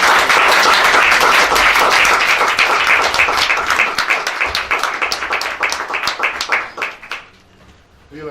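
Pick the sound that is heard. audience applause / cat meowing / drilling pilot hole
audience applause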